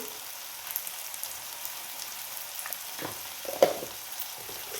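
Potatoes frying in a pan with tomato for aloo curry, a soft steady sizzle with light stirring clatter and a brief louder scrape near the end, heard alone.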